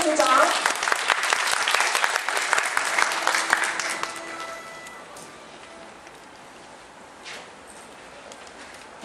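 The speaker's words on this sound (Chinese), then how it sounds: "让我们掌声欢迎陈建中组长。" An audience of around 300 at a conference hall claps to welcome a speaker, a dense burst of applause for about four seconds that thins out into a quiet room.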